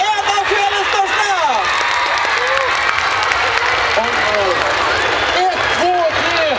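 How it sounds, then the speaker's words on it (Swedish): Loud festival crowd applauding and cheering for a performer named Danny at the Rix FM Festival in Luleå, with whoops, shouts and steady clapping throughout, voices calling over the dense roar. "Nu ger vi honom en stor varm applåd"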